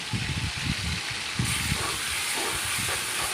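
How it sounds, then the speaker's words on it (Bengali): Whole spices crackle and sizzle as they drop into hot oil for a dish of pointed gourd and pomfret fish, a steady loud hiss with rough low bumps from stirring and a brief surge partway through. "তেল গরম হয়ে গেছে এখন আমি মশলাগুলো তেলে ছেড়ে দেব"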